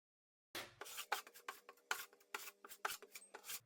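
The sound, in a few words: notch trowel spreading floor adhesive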